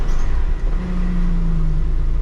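A Renault Megane 3 Coupe with a 1.5 diesel engine of 130 hp, rolling along on a hot day with a loud, steady low rumble and a faint rising whir, heard from inside the car.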